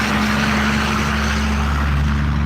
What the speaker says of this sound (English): That truck is really loud.